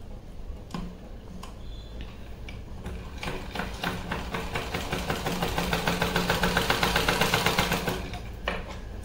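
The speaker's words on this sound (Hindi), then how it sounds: "दोनों फैब्रिक पे इस तरह से मोड़ के हम सिलाई लगा लेंगे" A sewing machine stitches along folded fabric edges with lace trim, a steady close mechanical whirr with rapid rhythmic ticking that builds in pace and loudness, then slows near the end.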